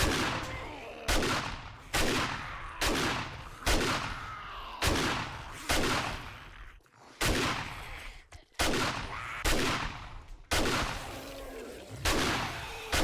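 Loud gunfire in the modded 7 Days To Die video game: about a dozen heavy blasts at a steady pace of roughly one per second, each followed by a short decay, with little talking.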